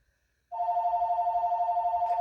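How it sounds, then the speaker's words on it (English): A phone rings with a steady electronic trill, loud and close, starting after a short silence and continuing without a break. "my phone's ringing. I'm just gonna let it go."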